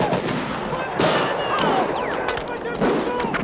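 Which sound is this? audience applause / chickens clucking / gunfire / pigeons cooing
gunfire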